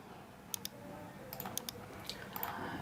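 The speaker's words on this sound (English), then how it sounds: "and then I'm typing DSLR photography." Typing on a computer keyboard while entering a search into Google, heard as a few scattered soft clicks in short clusters over a steady low background hum, close and fairly quiet.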